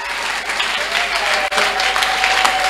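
Church congregation at a Sunday wedding blessing breaking into loud, sustained applause, dense clapping from many hands filling the room, with a brief dip midway and some voices mixed in beneath.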